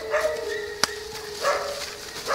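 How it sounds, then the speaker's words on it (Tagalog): Dogs barking in a forest, a few sharp barks and whimpering yips close by, carrying over a quiet outdoor background. "Kyok, bakit ang daming aso dito, Kyok?"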